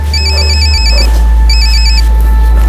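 A telephone rings in two electronic bursts, a warbling trill, then a pause and another, over a steady low hum.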